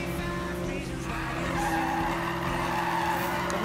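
In the Need for Speed video game, tyres skid and squeal through a drift, a continuous loud screech over a steady engine drone, with music underneath.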